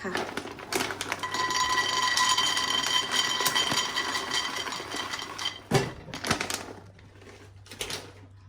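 Peanuts poured into a pan for dry roasting over low heat rattle and patter against the metal in a steady, busy clatter that thins out near the end, with someone talking over it.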